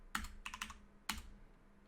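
A terminal command is typed on a computer keyboard, a few quick, crisp keystrokes in small clusters, close and quiet with no talking.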